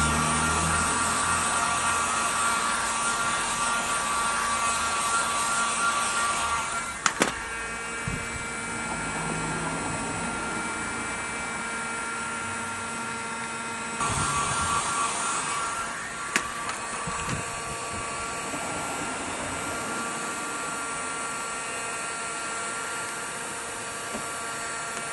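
A heat gun warms a sticker on a rounded surface, blowing a steady loud whir and hum throughout, with the pitch and level shifting briefly at a few points and small knocks, no speech.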